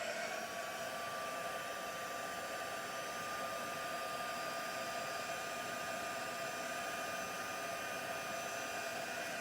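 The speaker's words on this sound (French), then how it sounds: "je vais venir accélérer le séchage avec mon pistolet. Comme ça, ma pâte va sécher beaucoup plus vite" Heat gun blowing hot air to dry craft paste, a steady close whirring hiss with a faint whine that holds unchanged from start to finish.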